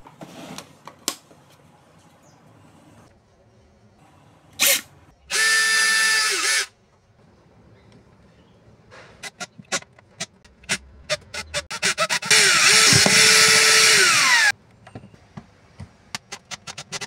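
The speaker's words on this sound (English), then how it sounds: "Drill the entry hole for drill bits into the pipe." A power drill bores an entry hole for drill bits into a pipe, in two loud sustained bursts of whining motor, a short one and a longer one, with scattered clicks and knocks of handling between them.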